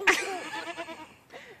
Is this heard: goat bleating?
yes